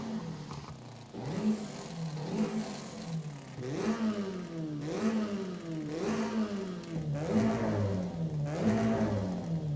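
In a rally racing video game, a car's exhaust revs up again and again, each rise in pitch followed by a drop. The pattern repeats rhythmically, loud and close, with no talking.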